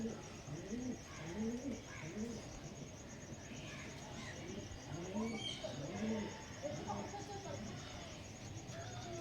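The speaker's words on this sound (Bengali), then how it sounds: "এবার দেখা চলেছি এক জোড়া মালবাহী পায়রা" A pair of carrier pigeons coo repeatedly in soft, low, throaty phrases close by, over a steady background hum with faint chirps.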